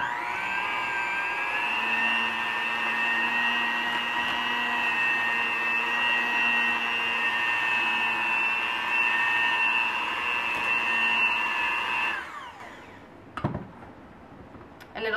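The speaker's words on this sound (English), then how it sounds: "we're going to use our blender on low" A blender running on low speed mixes eggs into churro dough, a steady loud whirring motor hum for about twelve seconds before it cuts off, followed by a brief clatter and near quiet.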